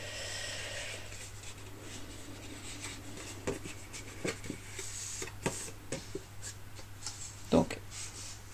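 Paper is folded by hand for an autumn scrapbook mini album, making soft crinkles and scattered crisp creasing taps, faint and close in a quiet room.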